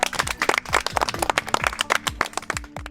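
Children clap together in a quick, uneven round of applause, dozens of sharp overlapping claps over about three seconds, close and lively, with no talking.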